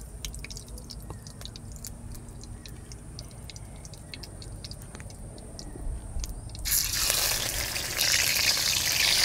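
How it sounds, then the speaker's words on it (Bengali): Khirod fish hitting hot oil in a heated kadai, a quiet steady crackle that abruptly swells into a loud, broad, continuous sizzle near the end. "কড়াটা গরম হয়ে গেছে, তেল দিয়ে মাছটা ভেজে নেব"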